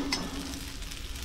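White anchovies dry-roasting in a pan without oil, Malvani style, giving a soft, faint continuous sizzle and crackle close by, with no talking.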